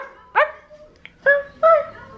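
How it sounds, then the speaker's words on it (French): A small dog gives three short, high yapping barks close by, separated by brief pauses in an otherwise quiet room. "Tu sais aboyer?"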